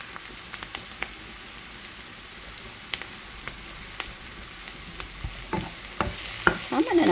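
Garlic sizzles and fries in a pan for a carbonara, with scattered scraping clicks from stirring and a livelier burst of spoon strokes near the end.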